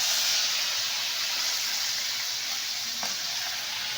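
Onions fry in hot oil for a crab dish, producing a steady, loud, close hiss and sizzle that holds evenly for a few seconds, with one faint clink near the end and no talking.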